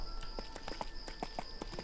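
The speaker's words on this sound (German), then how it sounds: "Wir reiten mal mit dem Pferd hier weiter in den Norden." Steady clip-clop of horse hooves walking at an even pace in the video game EverQuest II, moderately close, with a faint constant high hum in the background.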